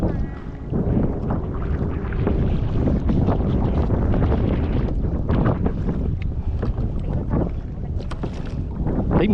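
A boat moves across open water under a constant loud rush of wind buffeting the camera microphone, with churning water noise and a few knocks, and no voices.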